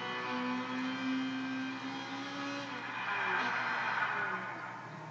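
Honda Integra race car engine in the Gran Turismo 6 racing game, a sustained, moderately loud whine with shifting pitch and faint tire noise, a brief rise in intensity midway.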